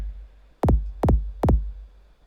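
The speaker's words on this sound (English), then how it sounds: "Here's the first kick played." Sampled kick drum played in Logic, three deep booming hits in a steady rhythm, each a doubled thump with a quick decaying low tail, alone over a faint low hum.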